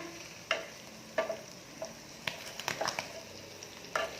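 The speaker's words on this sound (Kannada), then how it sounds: "ಗೈಸ್, ಪನ್ನೀರೆಲ್ಲ ಫ್ರೈ ಆಗಿ ಹೋಗ್ತಾ ಇದೆ" Paneer fries in a kadai, with a soft steady sizzle broken by several sharp spatters and pops at irregular intervals, close by and fairly quiet, with no talk over it.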